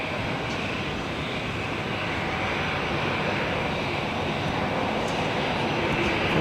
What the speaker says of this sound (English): It's 777-300ER, making her way up here to the north side.